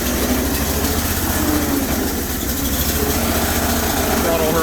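A cold engine idles with a steady low rumble close by, its even drone holding through the whole stretch with only a slight rise as it is throttled up; no one speaks.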